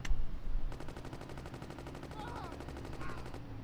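Rapid gunfire in the Gangsters 2: Vendetta video game: a steady burst of closely spaced shots running for about three seconds after a short loud thump, with faint talk underneath.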